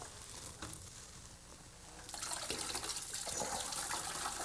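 Cold water gushes and splashes into a vessel for home-brewed spruce beer, starting softer and then swelling into a loud, steady pour with no voices.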